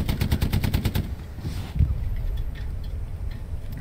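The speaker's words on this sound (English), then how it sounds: "Alright, fire the gun now. Main gun." A tank's main gun fires in Hell Let Loose, preceded by a rapid machine-gun burst of about ten evenly spaced shots, followed by a heavy boom and a rumbling tail over battlefield noise.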